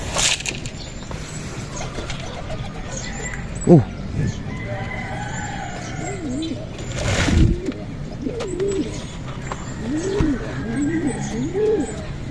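Pigeons coo repeatedly in a loft amid steady background noise, with a rooster crowing in the distance and occasional people talking.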